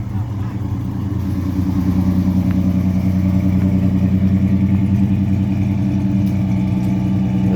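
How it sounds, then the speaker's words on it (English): A six-cylinder engine fitted with new headers and dual exhaust runs steadily and loud throughout, a continuous low throbbing rumble with slight swells in throttle. "Does that sound like a 6-cylinder, guys?"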